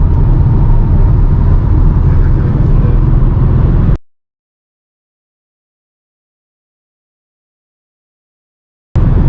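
A Porsche Cayman at full throttle on an unrestricted autobahn: a loud, dense roar of engine and wind noise held steady for about four seconds, then cut to silence before a brief return.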